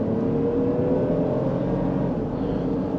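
A 2020 Toyota Highlander 3.5 L V6 accelerating in sport mode gives a steady, smooth engine hum and whir with no talking.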